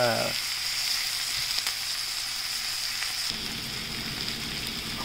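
Sliced bitter gourd hits a hot pan with garlic and sizzles loudly. The steady frying hiss continues throughout, with faint stirring underneath and no voices.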